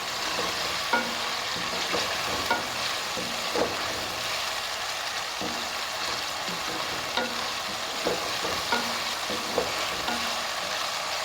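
Pieces of mutton with ginger and garlic frying in a pan for tauri gosht, a continuous close sizzle broken by regular scraping stir strokes and light clinks, with no talk.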